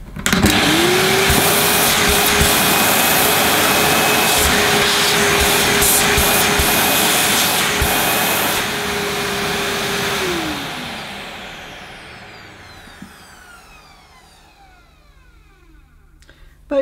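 A Hoover Jet N Wash multipurpose vacuum cleaner and carpet washer runs with a loud, steady whine and rushing air, then switches off and winds down to quiet over several seconds.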